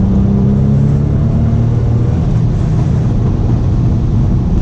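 Audi B5 S4 with a new 3-bar MAP sensor and tune accelerating hard in fourth gear, a loud, steady engine roar and road rumble that holds strongly throughout with no one talking.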